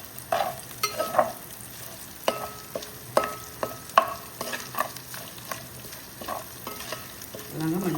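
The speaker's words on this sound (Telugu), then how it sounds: "ఇప్పుడు కూడా ఈ మసాలా ఆకు వేగుతున్నాయి." Masala leaves fry in oil in a pan for mushroom curry: a steady close sizzle with sharp crackles and pops and occasional stirring scrapes, with no talking.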